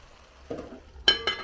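Curry saltfish sizzling in a pan as it's stirred with pepper, a soft scrape followed by a brighter clink and fizzing bursts, brief and fairly quiet with no talking.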